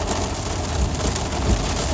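Heavy rain drums on a car, heard from inside as a dense, steady patter with occasional louder thumps, close and continuous with no talking.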